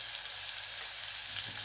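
Spice paste of cumin, coriander and lentil powder frying for a dried fish curry, a steady close hiss of sizzling oil with faint stirring.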